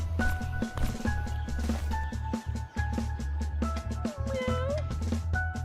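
Cats meowing in a video game trailer, sounding over a steady loud music bed with tonal lines and rhythmic beats; the meows sit mixed into the music rather than alone.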